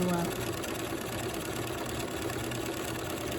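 A sewing machine stitches a landscape fabric postcard, its motor keeping up a steady, close, humming whir with a rapid rhythmic pulse throughout.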